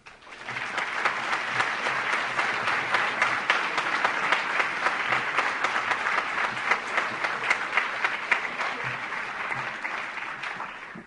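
Sustained audience applause welcoming speaker Michael Scheuer at a World Affairs Council of Northern California event, dense steady clapping from a large crowd lasting the full stretch.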